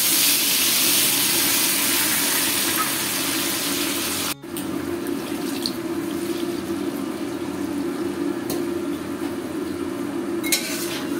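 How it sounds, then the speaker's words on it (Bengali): Water poured into a pan of ground mustard and green chili paste in a home kitchen, a steady wet rush with light utensil clinks, continuous and fairly close, no talking. "এবার একটু জল দেব,"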